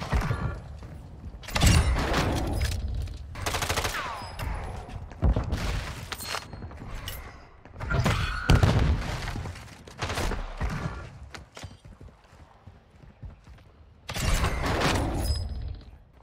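Gunshots and clattering action sounds from a first-person video game, irregular bursts of shots scattered through the stretch with mechanical clicks between them, moderately loud and with no clear talk.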